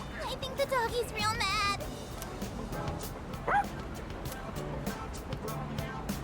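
Video game dog in Persona 3 Reload, several short yips and whimpering barks near the start and another around the middle, with a voice talking over the game sounds.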